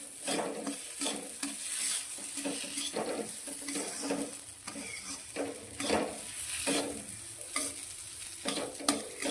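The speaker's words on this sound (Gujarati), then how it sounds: "ફરી આપણે તેને શેકીશું એકાદ મિનિટ આ રીતે તેને આપણે શેકવાનું છે" A barfi churma mixture roasts in a pan while a spoon stirs it steadily, giving a continuous gentle sizzle broken by rhythmic scraping strokes, close and moderately loud, with no voices.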